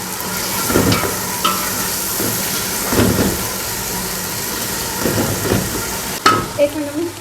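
Masala fries loudly in ghee in a pot for mutton pulao, a constant crackling sizzle with periodic bursts of stirring and scraping every couple of seconds, close and strong throughout.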